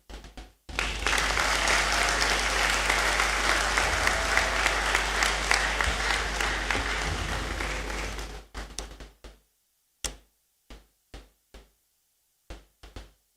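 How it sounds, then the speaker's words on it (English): An audience in the Great Hall at a university congregation ceremony gives a long, loud round of applause to welcome a guest speaker, then it dies down to a few scattered, isolated claps. "join me with a very big round of applause to welcome him"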